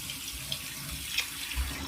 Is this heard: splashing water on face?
yes